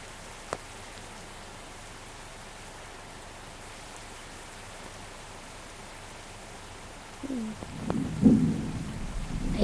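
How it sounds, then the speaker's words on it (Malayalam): Rain and thunder in a KSRTC bus simulator video game: a faint, even patter of rain for most of the stretch, then a low rumbling thunder roll swells near the end. "മഴ വന്നുണ്ട് കേട്ടോ"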